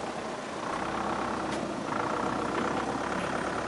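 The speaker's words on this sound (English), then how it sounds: "Trying to start the tractor." A tractor engine runs with a dense, steady rumble and broad noise that holds at an even level throughout, close and fairly loud, with no talking.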